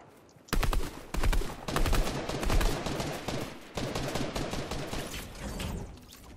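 A three-shot weapon in Fortnite fires in loud, dense bursts. The rapid cracks run almost without pause from just after the start to the end.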